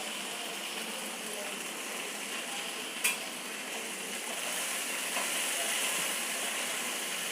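Okra with turmeric and salt fries in oil, giving a steady, soft sizzle throughout, with a brief stirring clink and faint utensil scrapes.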